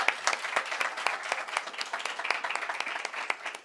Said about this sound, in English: Let us give the biggest clap offering to the Lord.